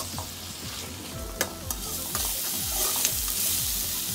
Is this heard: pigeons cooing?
no